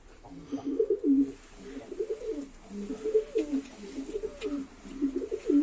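Mardin game pigeons cooing inside a coop, soft throaty coos repeating in overlapping phrases close by, with no talking.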